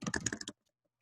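Rapid keystrokes on a computer keyboard while entering text on a title page, a dense burst of clicks for about half a second and then silence.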